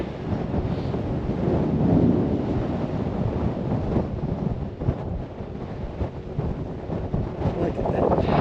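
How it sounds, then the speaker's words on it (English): Strong wind at a river canyon viewpoint above the Columbia River buffets the microphone with a loud, continuous roar and gusty low rumble, rising and falling throughout. "it is really windy"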